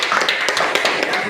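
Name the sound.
applause for a presenting group in class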